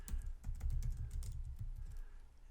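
Rapid, close clicking of keys on a computer keyboard while JavaScript code is typed, an uneven run of keystrokes with no talking.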